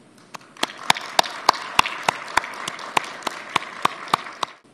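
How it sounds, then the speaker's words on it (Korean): An audience at a Korean government artificial intelligence event claps in unison, about sixteen crisp beats in a steady, even rhythm before it stops. "격려와 감사의 박수를 보냅니다"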